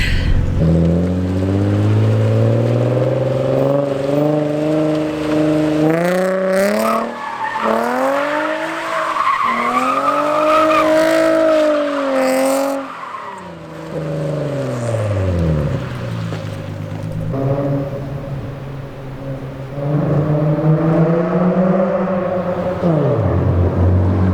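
A rear-wheel-drive Nissan 350Z spins donuts, its tires squealing loudly and continuously in sweeping, wavering tones over a revving engine, with the pitch rising and falling through each rotation.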